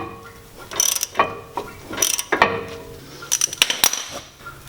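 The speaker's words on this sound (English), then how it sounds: "So now I can screw out the top bolt" Hand ratchet loosening the top caliper bracket bolt on a Mercedes-Benz E350 brake job, heard as several close bursts of quick clicking pawl strokes separated by short pauses, with faint metallic clinks between them.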